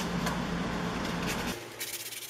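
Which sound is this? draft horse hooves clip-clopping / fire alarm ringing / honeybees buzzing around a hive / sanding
sanding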